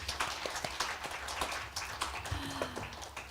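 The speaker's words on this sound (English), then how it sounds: "let's give a big round of applause to all the speakers" Applause for the speakers at a policy dialogue on carbon neutrality, with scattered, fairly faint claps from a modest audience in a hall, uneven and spread out rather than a dense roar.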